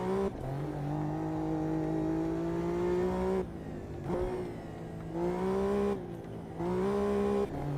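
A race car in the Automobilista 2 sim racing game revs loudly in a few sustained engine pulls, each dropping off between gear changes, with no voices.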